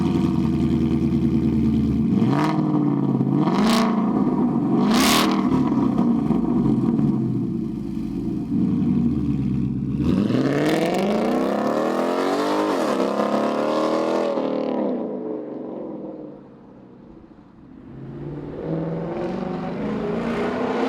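A 2015-2023 Mustang GT V8 with a resonator-delete X-pipe exhaust revs hard, loud throaty blips, a long rising and falling rev, then idle and another climb.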